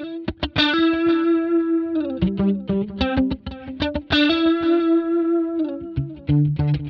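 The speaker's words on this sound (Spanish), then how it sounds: "Vamos a poner lo que es un delay, cogemos un digital delay." Electric guitar played through the digital delay of a NUX Trident NME-5 multi-effects pedal, a run of plucked notes and chords whose repeats trail behind each attack, loud and close, with no voice.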